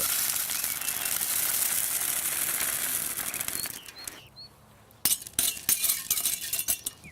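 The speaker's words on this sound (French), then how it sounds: "On utilise principalement des billes d'argile expansées. On va en mettre environ 3 à 5 cm d'épaisseur." Expanded clay pebbles poured into a citrus pot as a 3 to 5 cm drainage layer, a dense rattling rush for about four seconds that then thins into a few separate clinks and clatters.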